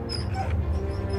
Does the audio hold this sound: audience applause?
no